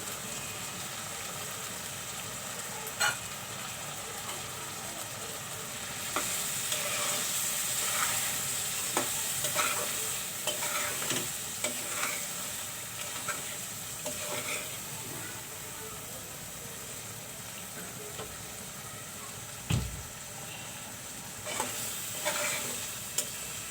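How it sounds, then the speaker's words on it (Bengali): Fish belly pieces sizzle and hiss steadily in a hot pan while being cooked with tomato, with occasional stirring clinks and scrapes over the constant frying noise. "আমি এখন এখানে মাছের পেটিগুলো দিয়ে দিচ্ছি"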